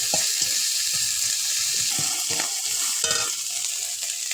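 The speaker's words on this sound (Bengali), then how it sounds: "এবারে মশলাটা ভালো করে ভেজে নেব।" Garlic, ginger and green chilli paste sizzles and fries in a pan for fish curry, a steady hiss broken by a few stirring scrapes, close and without speech.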